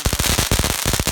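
A Magnus 'Call Me Maybe' firework fountain erupts in loud, dense crackling, rapid bursts popping one after another without pause.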